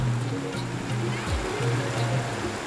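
A river flows steadily near the waterfall at Tiware, a continuous close rushing wash with a low droning hum running through it.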